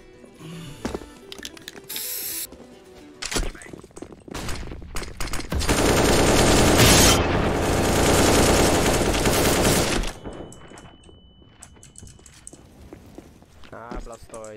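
Video game gunfire, a sustained loud burst of rapid shots in the middle, preceded and followed by scattered single shots, footsteps and other game sounds, with a voice talking over parts of it.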